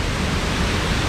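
The waterfall at Old Mill Park in Roswell, Georgia, gives a steady, dense rush of falling water, loud and unbroken, with no voices over it.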